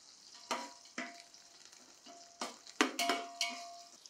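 Coriander and mint stirred into hot oil in a pan, a soft sizzle punctuated by several sharp spoon scrapes and clinks, close and alone without talk.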